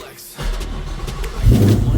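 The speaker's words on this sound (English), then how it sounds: "Started right up. Cold start." A Ford Foxbody with a swapped Coyote engine cold-starts, catching into a low rumbling idle that swells into a louder rev near the end.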